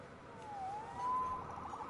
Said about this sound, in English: Siren.